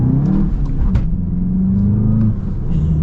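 A 2025 Volkswagen GLI manual sedan accelerates hard, its engine a loud, close droning rumble that climbs steadily in pitch with brief dips between gears, heard from inside the car with no talking.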